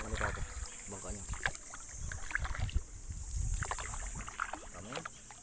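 A small wooden outrigger boat (bangka) travelling on open sea off Linapacan, Palawan, in the Philippines: water sloshing and wind buffeting the microphone, with voices talking intermittently.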